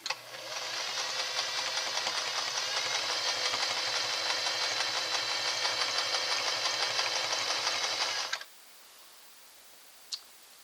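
A Singer 403A sewing machine doing double needle stitching at medium stitch length, a loud steady rapid mechanical chatter running continuously for about eight seconds, then stopping, followed by a faint single click.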